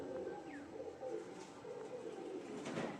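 Kalasabuj Giribaz pigeons coo softly and repeatedly at close range, low murmuring calls over a faint background hiss with no talking.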